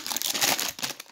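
Plastic bag crinkling up close as it is opened, a brief burst of dry crackles and rustles, loud and alone.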